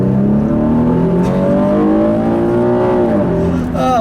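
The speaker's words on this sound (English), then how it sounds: "it gives you a lot more engine growl there, and that exhaust just really sounds great" A 2010 Infiniti G37S coupe V6 with catback exhaust gives a loud, continuous engine growl with deep exhaust rumble, pitch rising and falling as it revs, close and steady throughout.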